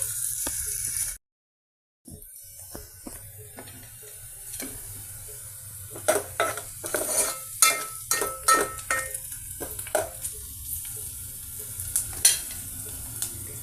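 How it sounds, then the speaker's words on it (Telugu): Pieces of large onion and green chillies fry in a generous ladle of hot oil in a pan, a steady sizzle broken by a brief silence, then frequent scraping stirs and clinks of a spoon, with no talking. "ఇక పెద్దలిపాయ పీసెస్, పచ్చిమిర్చి ఆయిల్లో ఏ విధంగా ఫ్రై చేస్తున్నామండి"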